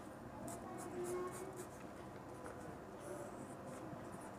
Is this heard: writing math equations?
yes